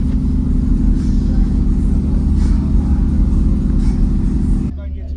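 Heavy, booming low bass pumps steadily from two 18-inch subwoofers in a truck, loud and continuous with a thumping rhythm, dropping off abruptly near the end.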